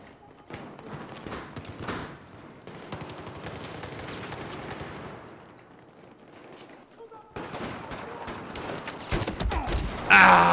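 Rapid gunfire from Battlefield 1 gameplay, bursts of shots and clattering action over about ten seconds, with a brief lull mid-clip and a louder burst near the end; players talk throughout.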